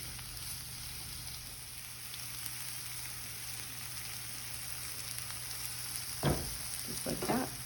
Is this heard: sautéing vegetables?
yes